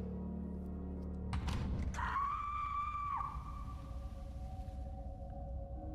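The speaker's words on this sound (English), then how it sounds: "He has screams like that?" A loud, sustained scream in the horror game Tormented Souls erupts after a sharp thump, rising to a piercing held wail for about a second before dropping into a lower lingering moan.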